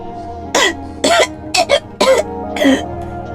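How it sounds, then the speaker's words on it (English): Five harsh coughs close to the microphone, irregularly spaced, two of them in quick succession, with quiet gaps between. "In the darkness, some pony coughed."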